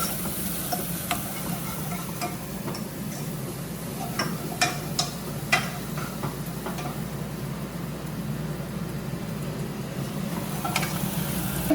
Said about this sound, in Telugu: ఇప్పుడే అల్లం వెల్లుల్లి పేస్ట్ వేసేసాము వేసి కొంచెం ఆయిల్ వేసి మంచిగా కలుపు కలుపుకుంటున్నాం